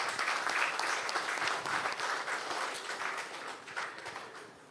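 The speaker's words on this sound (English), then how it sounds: "Can we give him a round of applause, please?" Applause from an audience at an ordinary session of a congress fills the whole stretch, a dense, steady clapping that is loud and close and slowly tapers off.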